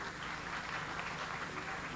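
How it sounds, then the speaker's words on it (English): Audience applause for a scholarship recipient at a 1991 annual function, a steady, even wash of many hands clapping, fairly faint and distant, with no voices over it. "Ladies and gentlemen, you can at least applaud her achievement."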